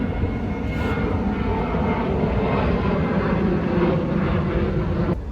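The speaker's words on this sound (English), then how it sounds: "We're restarting because the plane was super loud." A loud airplane roars overhead without a break, its broad engine rumble steady for several seconds and drowning out everything else.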